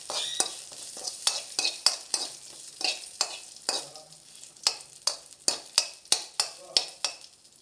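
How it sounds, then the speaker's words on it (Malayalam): Curry leaf and mustard seed tempering is stirred into a snakehead (varal) fish curry, giving a close, steady sizzle broken by a rhythmic series of sharp spoon-against-pot scrapes that grow more regular toward the end. "കറിവേപ്പിലയിട്ട് ഇത് നമുക്ക് ഈ നമ്മുടെ മീൻകറിയിലോട്ട് ചേർത്ത് കൊടുക്കാം."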